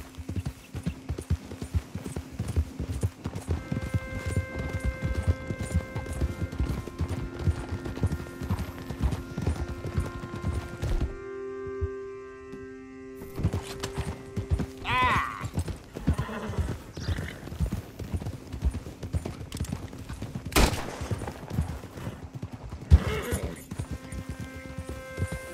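Horse hooves gallop in Red Dead Redemption 2, a steady clip-clop rhythm running almost throughout with occasional whinnies and a brief break in the middle, set against continuous game music.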